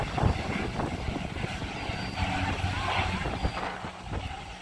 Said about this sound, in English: he's going to go past, like, just like an actual plane just does.